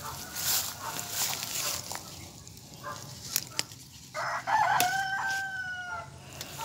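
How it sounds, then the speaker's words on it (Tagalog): A husband's bengala gamecock crows loudly at close range against an outdoor background with a voice talking nearby, the drawn-out crow standing out near the end amid faint rustles and footsteps. "Ang ingay ng bengala ng asawa ko."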